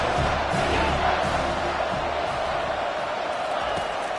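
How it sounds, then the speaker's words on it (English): Football stadium crowd roaring and cheering for the defense down in the red zone, a dense steady wall of noise filling the whole stretch with no break. "And the crowd coming to life here, trying to help this defense down in the red zone."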